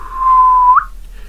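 Sharp single whistle in an audio drama set outside a store during a zombie outbreak, a steady clear tone held for about half a second that rises and cuts off abruptly, loud and close.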